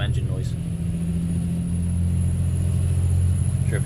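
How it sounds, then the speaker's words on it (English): Truck engine in American Truck Simulator heard with a cab window open: a steady low droning hum with a faint tonal whine, continuous and even, with a soft voice briefly audible over it. "Should open that window up again, get some engine noise."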